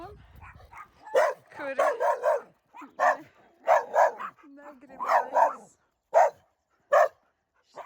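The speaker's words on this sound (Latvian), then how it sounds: "Tā ir tāda banda ar suņiem," A pack of dogs barks repeatedly outdoors in Latvia, sharp close barks in bursts with brief pauses, while someone speaks a few words over them.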